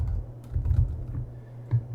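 Computer keys tapped in a quick, irregular run of clicks while a word is typed into a SharePoint form, close and fairly soft over a low steady hum, no voices.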